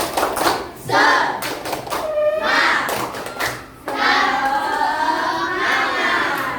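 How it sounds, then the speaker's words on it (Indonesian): A group of schoolchildren performs a rhythmic spirit clap, sharp repeated hand claps in quick patterned bursts, close and lively, with young voices chanting and calling between the clapping. "Sebelum presentasi, kita tepuk semangat dulu"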